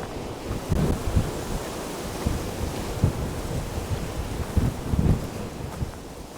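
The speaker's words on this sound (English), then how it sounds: "Very windy today" Strong wind at Anglezarke reservoir in Lancashire buffets the microphone in heavy rumbling gusts, surging and easing over several seconds with loud blasts around the middle and near the end, with nobody talking.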